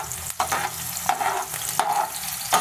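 Onions frying in hot oil crackle with a steady sizzle while a spoon scrapes and stirs them in the pan, making four distinct stirring strokes, close and clear, for capsicum curry.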